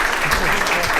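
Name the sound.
applause from the audience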